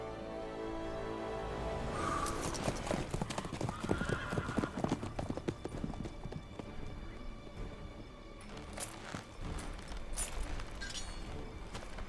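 Galloping horse hooves pound in a fast rhythm, joined by a whinny, amid game-like background sounds in The Witcher 3.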